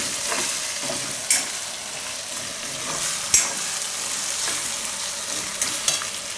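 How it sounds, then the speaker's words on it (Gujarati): Eggplant pieces frying in oil for a Gujarati curd-eggplant curry, a loud continuous sizzle with occasional scraping stirs and a few sharp pops, close by and without speech. "તો તેલમાં રીંગણા અસલ પાકી જાય આ રીતના"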